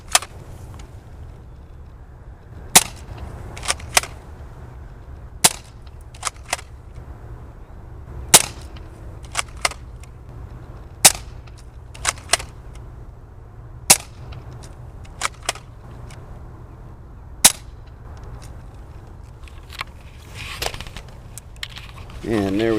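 Modified Nerf Elite Strongarm blaster firing lightly weighted Elite Stinger darts: six sharp, loud shots at irregular intervals alongside softer clicks of handling and priming, over a low steady background hum.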